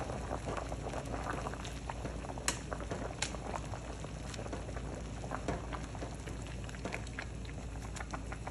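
Water for spaghetti boils steadily in a pot, a constant close bubbling and popping patter with occasional louder pops, with no speech.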